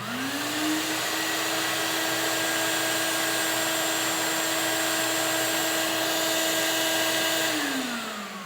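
A Ridgid Extractor shop vacuum spins up, runs with a steady loud whine and airflow roar for several seconds, then winds down, with no talking over it.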